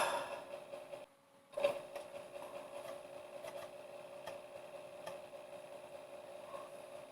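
Floppy disk drive motor on an Atari 520STE whirs and buzzes faintly while the computer boots, a low steady mechanical hum with small ticks, briefly cutting out near the start before resuming.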